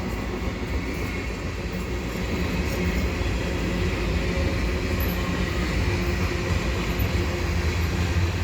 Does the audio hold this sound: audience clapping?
no